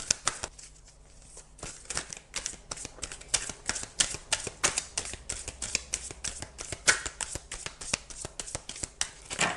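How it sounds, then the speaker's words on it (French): Oracle cards shuffled by hand in rapid, crisp riffling flutters with rhythmic slapping, close and fairly loud, continuing for several seconds without talk. "On va prendre une dernière carte de l'âme des arbres"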